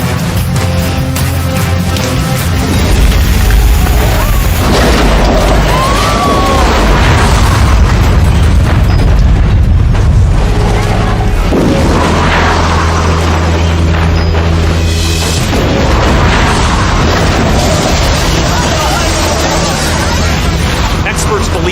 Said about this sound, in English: The blast is caused by a smoke explosion.